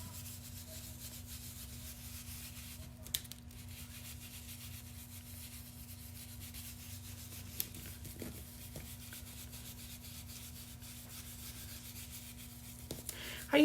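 Sandpaper rubs steadily against a wooden DIY paddle to take off paint, a quiet continuous scratching over a low steady hum, with a few faint taps and no talking.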